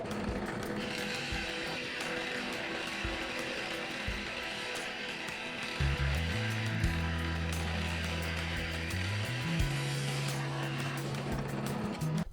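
A drill bores holes in wood with a 1.5 inch Forstner bit, its motor whining at a steady, rising-and-falling pitch over a constant broadband grinding hiss that grows louder midway.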